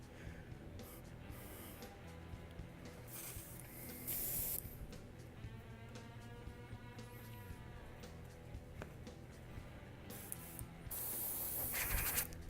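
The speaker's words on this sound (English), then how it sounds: "Alright, airbrush is clean." An airbrush being cleaned gives short bursts of hissing spray, several spurts of a few seconds each, separated by quieter gaps of faint rubbing and handling noise, close and fairly soft.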